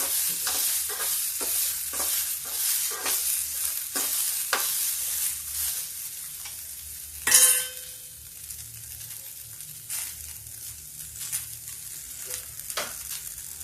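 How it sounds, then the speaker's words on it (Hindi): Beans and pointed gourd stir-fried in a pan over low heat, with repeated scraping and stirring strokes over a soft sizzle and one louder clatter midway. "ये बीन्स है, इसको भी थोड़ा सा मैं फ्राई कर लेती हूँ।"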